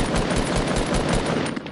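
Rapid automatic gunfire in the video game Fortnite, loud and continuous with a dense, steady rattle of shots throughout the brief burst.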